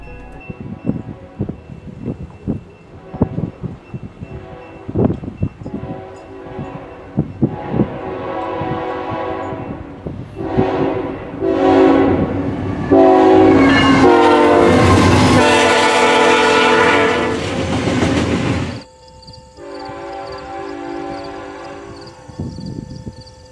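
Train horn, a Nathan K5HL five-chime on a locomotive, sounding repeatedly as the train approaches, with clanking wheels and rail noise building into long loud chord blasts, then a closer sustained blast after a brief cut.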